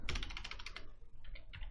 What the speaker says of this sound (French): si vous commencez à écrire MySQL